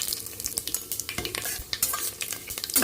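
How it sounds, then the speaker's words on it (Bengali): Dried red chilli, bay leaf and cumin seeds crackle in hot oil for a khichuri tempering, with sharp spitting pops and a steady sizzle under repeated stirring scrapes. "তেলটা গরম হয়ে গেছে, শুকনো লঙ্কা, তেজপাতা, জিরেটা ফোড়ন দিয়ে দেব।"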